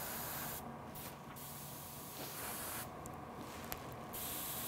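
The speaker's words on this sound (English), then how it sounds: "I'm gonna spray the area." Short bursts of spray paint hiss onto the heads of miniature bird figures, two quick sprays then a longer pulsing spray, close and fairly soft under a constant background noise.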